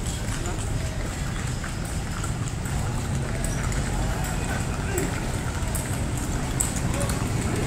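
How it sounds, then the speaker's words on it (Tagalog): Horse hooves clip-clop on the street as the animal trots pulling a kalesa carriage in Vigan, Ilocos Sur, a quick faint patter of steps under steady outdoor traffic and crowd noise. "Tunog nung pagtakbo ng kabayo"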